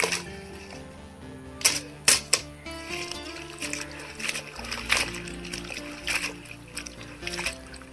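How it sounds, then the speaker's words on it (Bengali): Cut cabbage, tomato and potato being washed in water, with splashing, sloshing and clinking of vegetables and a vessel in irregular bursts over a faint tonal background. "এবার আমি জলে ভালো করে ধুয়ে নেব"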